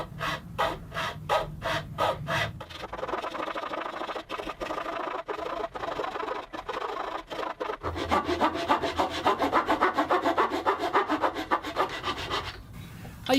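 A hand saw cuts wood for an acoustic guitar neck: a few slow, separate strokes, then a long run of fast, steady rasping back-and-forth strokes, close and loud, with no talking.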